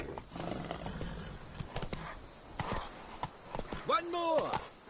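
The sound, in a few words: horse Roach galloping, hooves clip-clop, in The Witcher 3 video game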